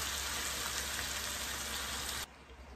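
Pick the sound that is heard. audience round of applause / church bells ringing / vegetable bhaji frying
vegetable bhaji frying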